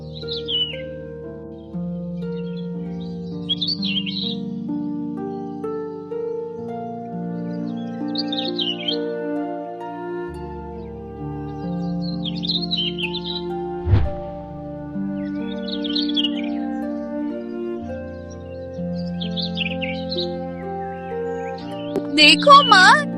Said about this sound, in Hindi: देखो माँ, टूनी चिड़िया फिर से गा रही है।